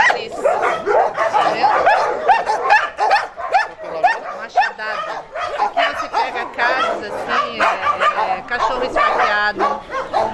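Many dogs bark, yip and whimper in the kennels of an animal shelter for abandoned or mistreated animals, a dense, continuous chorus of overlapping barks from several animals close by.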